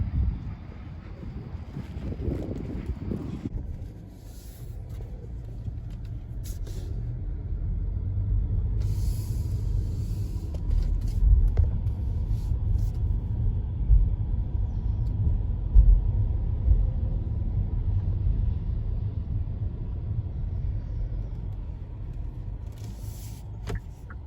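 Distant fireworks grand finale over the Trinity River on the Fourth of July, heard as a continuous low rumble with wind buffeting the microphone and traffic noise around a parking lot, no distinct individual bangs.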